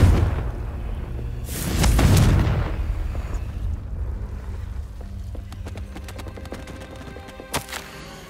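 Confringo blasting spell cast in Hogwarts Legacy: a loud fiery burst swells around two seconds, then fades into crackling debris, with a sharp second blast near the end.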